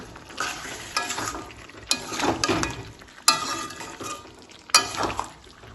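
Chicken being sautéed in a pan with spices and spoonfuls of chicken stock for malai chicken, with steady sizzling and repeated stirring scrapes and a few sharper knocks against the pan, close and loud, with no talk.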